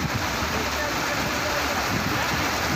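Heavy monsoon rain and rushing floodwater in Shivpuri, Madhya Pradesh, make a dense, even roar of hiss and splashing that stays loud and unbroken throughout.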